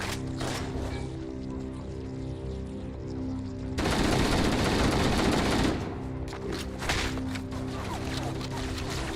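Rapid automatic gunfire in Halo: Combat Evolved Anniversary, with sustained bursts and a dense, loud volley in the middle, as well as scattered shots and impacts.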